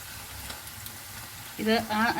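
Boneless chicken pieces fry in a pan as they are turned, giving a close, even sizzle and crackle, and a voice briefly starts talking over it near the end.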